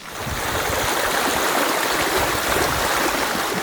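The Shurmak river flowing past a village on its left bank, a steady, broadband rush of moving water close by and loud, continuous and unbroken with no voices.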